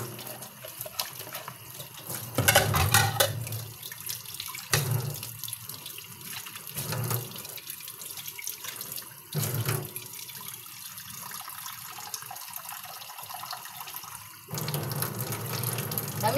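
Tap water runs steadily into a pot for rice porridge, a continuous close splashing flow with a few louder surges along the way.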